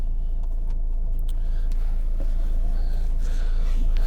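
A 2016 Volvo V40 Cross Country D2 diesel starting on a snowy day gives a steady low engine rumble that runs loud and continuous throughout, with a few faint higher clicks near the start.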